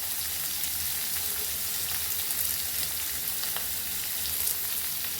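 Onion, green chilli and curry leaves fry in a pan with a steady, close sizzle and fine crackling throughout, with no voices and only faint stirring noises.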